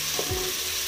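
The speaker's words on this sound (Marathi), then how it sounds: "फ्राय करून घ्यायचे आणि लगेच आपल्याला इथे जी कट करून हिरवी मिरची घेतली होती ना ती घालायची" Chopped green chillies hitting hot oil in a pan for white pulao, a brief soft sizzle with a quick stir, close and fairly quiet.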